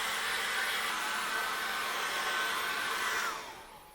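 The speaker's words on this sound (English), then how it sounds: "I find it's okay just to use a hairdryer" A hair dryer blows steadily on wet acrylic paint, a loud constant whooshing hiss that runs alone for a few seconds and then drops away as it is switched off.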